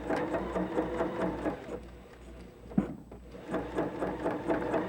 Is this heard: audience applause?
no